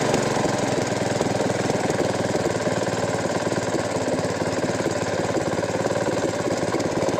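A Honda GX220 small engine runs after a repair, a loud, close, continuous rattling chug that holds an even rhythm from start to finish with no talk over it.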